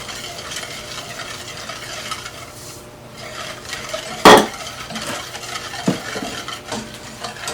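Sugar being stirred into a banana pudding mixture, with soft continuous scraping and swishing of a utensil in a bowl and a couple of sharp clinks against the side, close by.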